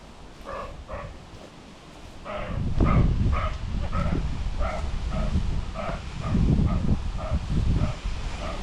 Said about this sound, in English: that deer just started barking as it was running